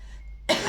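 A single sharp cough bursts out after a stretch of near silence, close and loud, from someone speaking French.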